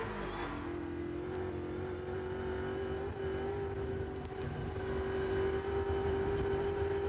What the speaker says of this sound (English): he was right on the tail that time, going up Mountain Straight on Larry Perkins